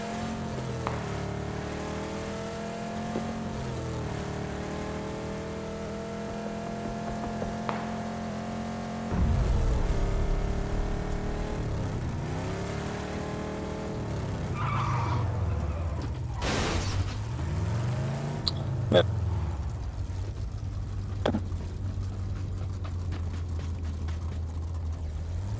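A car driven in a battle-royale shooter such as Fortnite, Apex Legends or PUBG, its engine humming steadily and shifting pitch as it accelerates and turns, with a few brief knocks and bumps, moderately loud and alone, no talking.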